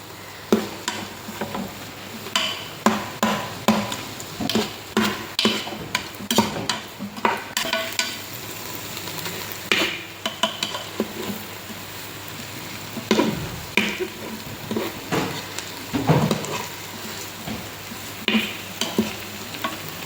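Cabbage frying in a pan for a simple home-style fry, a constant sizzle broken by repeated scraping and tapping strokes of a spatula in an uneven rhythm, close and moderately loud, with no voices.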